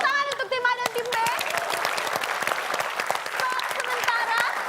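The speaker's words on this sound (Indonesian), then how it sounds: "Tepuk tangan untuk tim A dan tim B." A studio audience claps for team A and team B on a game-style show, with steady, dense applause filling the moment. Voices talk over the start and carry on beneath the clapping.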